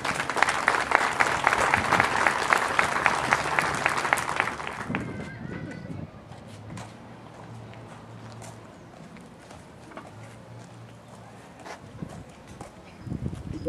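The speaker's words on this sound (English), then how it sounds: "I think you deserve a big round of applause for bringing your kids out here today" Crowd applause at an outdoor Memorial Day ceremony in Silver Lake, Wisconsin, loud and sustained for several seconds before fading, then quieter ambient sound with scattered voices.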